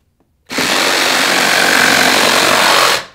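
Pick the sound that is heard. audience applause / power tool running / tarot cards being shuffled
power tool running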